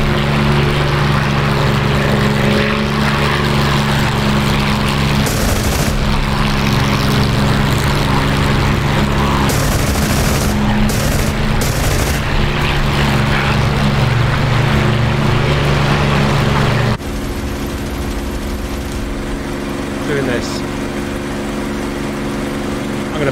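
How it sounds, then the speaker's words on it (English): A WWII fighter's propeller engine drones loud and steady in a flight video game during an interception of a German bomber raid, the tone shifting partway through as the engine note changes, no speech. "I'm going to burn my engine out very shortly."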